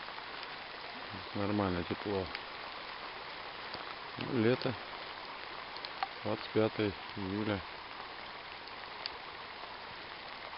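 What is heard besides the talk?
warm summer rain falling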